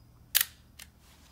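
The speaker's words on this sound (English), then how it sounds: "you can hear the difference when I take a picture with the shutter speed at" A camera shutter fires at 1/30th of a second, giving two crisp, close clicks about half a second apart, the first louder, against a quiet room.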